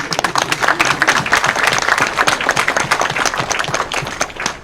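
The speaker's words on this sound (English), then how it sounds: "And we have our round of applause." Wedding reception guests applaud together in a dense, continuous burst of hand clapping, loud and fairly close, steady throughout with no speech over it.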